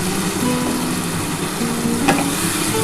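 A spice paste loosened with water fries and bubbles in a pan for a rohu fish curry with potato. It makes a steady close sizzle with a few stirring scrapes and no talking.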